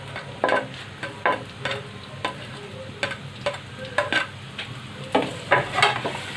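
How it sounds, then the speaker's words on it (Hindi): Four medium onions, chopped small, fry in the oil left over from frying bitter gourd. A steady sizzle is broken by a regular series of spoon scrapes and stirs, close up, with no talking. "प्याज को करते हैं फ्राई।"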